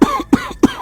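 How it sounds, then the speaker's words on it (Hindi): A person coughing three times in quick, evenly spaced bursts, close and loud, with no talking. "बहुत खांसी आ रही है"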